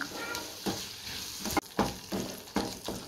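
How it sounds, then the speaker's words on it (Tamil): Tomatoes with salt sizzle steadily in a pan for rasam while a spoon scrapes and stirs them in regular strokes about once a second, close and clear. "இதையும் சேர்த்து நல்லா வதக்கி விட்டுருவோம்"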